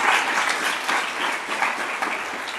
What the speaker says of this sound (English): they applauded when I cried